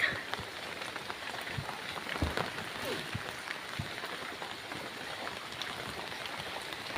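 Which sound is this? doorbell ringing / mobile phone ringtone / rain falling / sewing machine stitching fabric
rain falling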